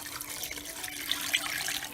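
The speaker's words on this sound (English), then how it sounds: "I'm gonna fill that up enough to submerge it with water" Tap water runs steadily into a cooking pot filled with plain water to cover rabbit for broth, a close, continuous splashing fill without talk.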